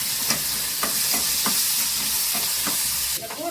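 Garlic, curry leaves and dried chillies fry in hot oil with a bright, steady sizzle, punctuated by regular soft clacks of a stirring spoon and a brief louder spatter near the end.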